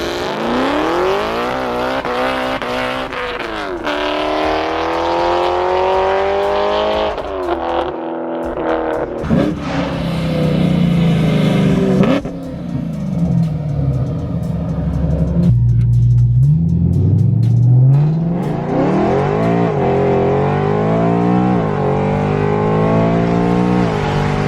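A supercharged BMW E92 M3 with an ESS kit revs hard through a first, second and maybe third gear pull, its engine note climbing loud and close with clear breaks at each shift and no talking.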